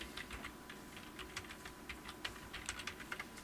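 Quiet, steady typing on a computer keyboard, a run of close, light key clicks in an irregular rhythm with occasional sharper taps, and no voice over it.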